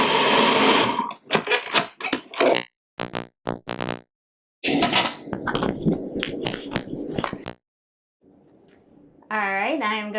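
A food processor or blender mashes one can of rinsed, drained black beans for brownie batter, with loud choppy whirring bursts broken by pauses, then someone talks quietly at the end.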